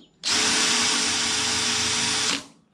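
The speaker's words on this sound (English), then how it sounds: "then I'll drill with number 40 and then bring them up to full size on that" A power drill with a number 40 bit bores into an aircraft wing spar on a Van's RV-4 during a spar crack repair, running as one steady, close, high whine for about two seconds before stopping.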